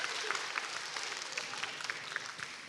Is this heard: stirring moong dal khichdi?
no